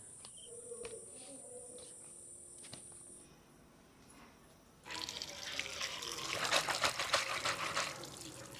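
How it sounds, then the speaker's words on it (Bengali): Pieces of bhetki fish are washed under running tap water in a kitchen, a faint trickle that turns into a louder, steady splashing rush partway through, with a high insect-like whine in the background. "এবার মাছগুলো তুলে নিয়ে ধুয়ে নেব।"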